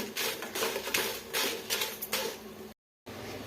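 Dry Byadgi and Guntur chillies roasting in a pan rattle and scrape in uneven bursts as they are tossed, moderately close, ending in a brief cut to silence.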